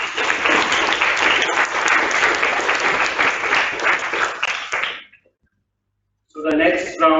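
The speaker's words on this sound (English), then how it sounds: "Claps, please." Audience at a zonal-level quiz competition breaks into loud, dense applause for about five seconds, then it cuts off into silence before a voice begins speaking.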